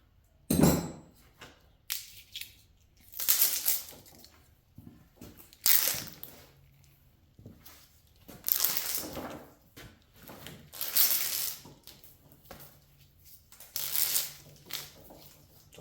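Big copper wire has its insulation coating peeled off in long tearing, ripping bursts, roughly six separate pulls with short pauses between them, close and fairly loud with no talking.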